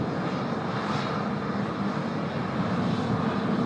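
An airliner, United 842, roars through its takeoff run on runway 16 right at an airport. The jet noise is loud, continuous and broadband, with no voices.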